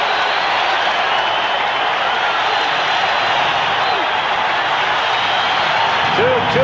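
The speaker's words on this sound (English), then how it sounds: "Crowd standing now as one, exhorting" A baseball stadium crowd stands and cheers a rookie pitcher during the 1981 Dodgers–Yankees season, a sustained, dense roar with scattered clapping that stays loud and even throughout with no break.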